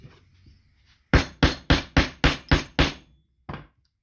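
A hammer strikes a punch into folded belt leather, seven sharp evenly spaced blows in quick succession and then one final hit after a short pause, close and loud.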